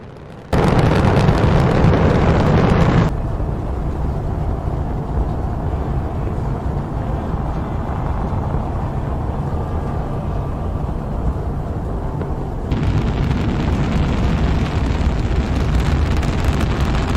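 A rocket deliberately destroyed by ground crew after tilting from thrust imbalance: a loud, sustained roaring blast that fills the opening seconds, drops to a steady rumbling roar through the middle, then surges louder again toward the end, with no talk.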